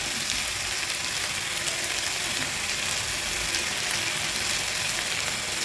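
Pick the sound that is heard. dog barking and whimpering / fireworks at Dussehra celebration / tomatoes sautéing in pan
tomatoes sautéing in pan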